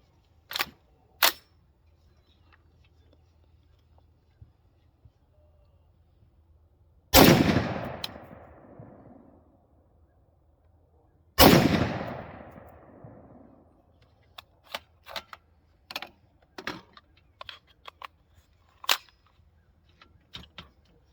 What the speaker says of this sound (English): I'll shoot it without the brass catcher. See if that's doing it.